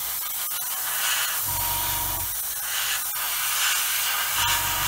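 An airbrush sprays paint onto an Airfix 1/24 F6F-5 Hellcat model kit in several close hissing bursts separated by short pauses, with no voices.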